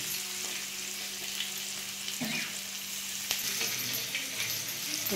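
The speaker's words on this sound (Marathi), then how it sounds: "लसूण परतून घ्यायचं छान." Garlic sizzling in hot oil, a constant close frying hiss with occasional light stirring clicks and scrapes, no talking.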